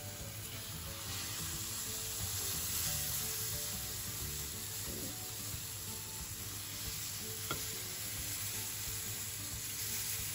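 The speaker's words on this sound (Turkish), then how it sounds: "Sonrasında karıştırdığımız şerbeti üzerine bu şekilde döküyoruz." Cooled sherbet syrup poured over a hot baked Turkish bademgöz dessert, giving a steady soft sizzle with faint liquid pouring throughout, no voices.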